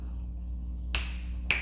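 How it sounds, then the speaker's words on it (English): Two crisp finger snaps, about half a second apart, ring out sharply over a quiet low hum. "Snap your fingers"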